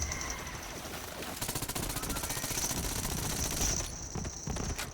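Kaoson SMG from Borderlands, a kinetic low-damage variant, firing in sustained rapid bursts, a dense rattling stream of shots with brief gaps, loud and close.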